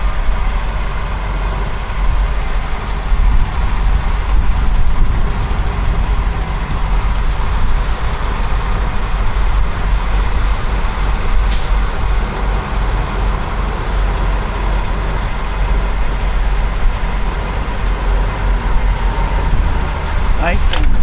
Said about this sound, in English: sorry for the semi noise in the background